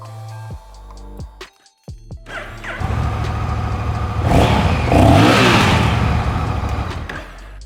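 A Honda Rebel motorcycle engine cranks with a few sputtering bursts, then catches and idles before revving up loudly with a deep low-end roar and settling back down, close and alone.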